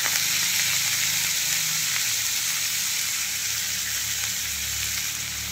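Leafy greens frying in hot oil with garlic in a home kitchen, giving a steady, dense sizzle that holds evenly throughout, with faint stirring underneath.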